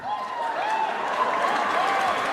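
A comedy club audience in Beirut claps and cheers in a steady wash of applause, with a voice rising and falling over it throughout.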